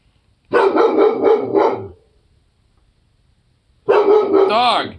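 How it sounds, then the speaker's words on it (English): A dog lets out two loud, close bursts of rough barking, each lasting over a second, separated by a short silence. "Dog"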